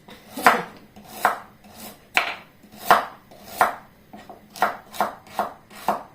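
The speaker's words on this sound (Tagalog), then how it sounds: "Gamitin natin ng isang kutsilyo. Pagdating po ito sa gulay. Kasi matigas po yung carrots." Knife chopping hard raw carrots on a board: about nine sharp, evenly spaced strokes, close and clear, with no talking.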